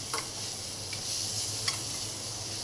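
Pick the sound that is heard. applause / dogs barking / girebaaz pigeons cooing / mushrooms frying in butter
mushrooms frying in butter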